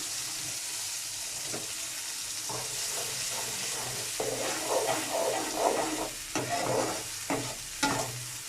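Steady sizzling of mustard seeds frying in hot oil, with crackles and pops over a constant hiss and occasional stirring clatter.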